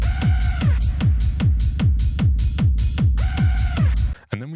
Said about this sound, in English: I've got one additional hi-hat performing on beat 1 using Open Hat 7